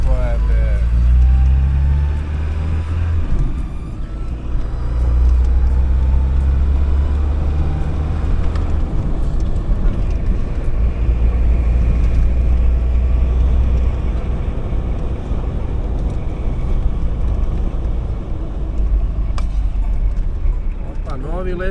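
An overlanding car's engine runs at full throttle on a road in China, a loud, steady low roar sustained throughout, with voices in the cabin over it.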